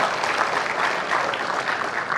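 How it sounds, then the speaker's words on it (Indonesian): Dense, even applause from an audience at an interactive vice-presidential candidate dialogue, a continuous wash of clapping with no pauses. "Tepuk tangan buat mereka berdua."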